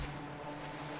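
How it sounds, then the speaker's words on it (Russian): A motorboat in the video game Far Cry hums with a steady low engine drone over washing water, continuous and fairly close. "Приплыл катер."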